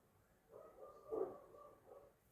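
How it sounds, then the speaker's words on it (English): Two dogs bark outdoors, one belonging to the household and one to a neighbor, heard faint and distant as a short run of muffled barks and yelps peaking near the middle. "listen to my dogs making all that noise outside"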